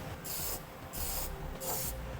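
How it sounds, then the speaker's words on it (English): Three short bursts of aerosol protective coating are sprayed onto raw metal edges of a base plate kit for a 2010 Honda CR-V, each hiss lasting about a third of a second, evenly spaced and close. "spray down the raw edges of material that we have now with something to protect it"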